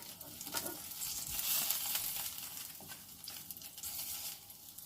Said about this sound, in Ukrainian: Поки я смажу першу порцію сирників, я формую собі наступну порцію для смаження.